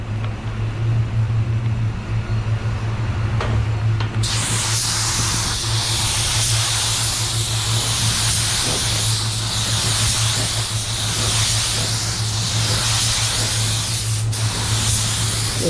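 A spray gun lays down a second coat of clear over candy red paint, a steady loud hiss running continuously from start to finish with no talking.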